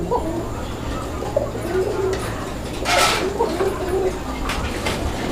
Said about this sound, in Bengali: সিরাজি কবুতর একটা জোড়া তো দেখতেই পাচ্ছেন নটটা ডাকাডাকি করতেছে